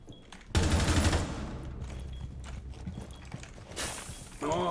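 Teammate's rapid gunfire in Rainbow Six Siege, a dense loud burst of shots starting abruptly and continuing as a sustained clatter with background game effects, no talk.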